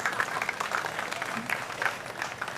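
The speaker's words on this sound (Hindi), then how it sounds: "बहुत जोरदार तालियों से आपने स्वागत किया" Applause from an audience welcoming a poet at a Hindi poetry gathering, a steady wash of many clapping hands at moderate distance, with some voices mixed in.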